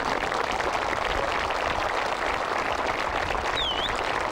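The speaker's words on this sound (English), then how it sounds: "That's actually the first time I've heard the gallery applaud when he's missing a short putt." Golf gallery applauding after Colin Montgomerie misses a short putt in the 1995 Volvo Scandinavian Masters final round, a steady, moderately distant wash of clapping lasting throughout, with a brief birdlike whistle near the end.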